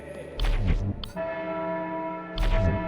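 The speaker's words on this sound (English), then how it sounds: "As I heard the ritual bell ring for the second time" A ritual chapel bell in the sci-fi game Lucifer Within Us rings in two loud clanging strikes, each followed by a long humming resonance that fills the gap.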